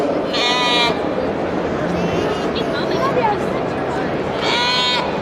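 Several lambs bleat loudly at a fair's lamb beauty contest, one at the start and another near the end, over a busy crowd murmuring in the background.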